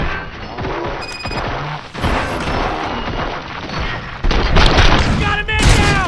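A chaotic gunfire volley in RoboCop: Rogue City, with dense overlapping shots, crashes and thuds running throughout and swelling louder near the end, while voices shout over the fight.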